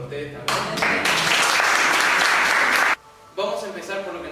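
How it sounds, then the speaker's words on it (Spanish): Audience applause at a talk on the global economic crisis, a dense wash of clapping that swells and holds for a couple of seconds, breaks off abruptly, then briefly resumes. "Un aplauso para ustedes también."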